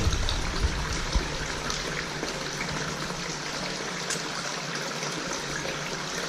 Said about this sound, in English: Look at that river water, clean, pure water